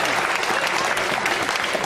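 A specially invited screening audience gives sustained, dense applause throughout, many hands clapping at once filling the room at steady loudness.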